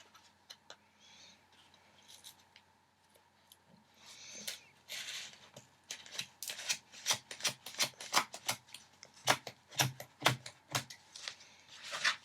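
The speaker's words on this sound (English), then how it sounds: "For now, I'm just going to cut this off." Scissors snip yarn off a cardboard loom in a quiet room, a rapid series of close, sharp cuts and clicks following some soft handling sounds.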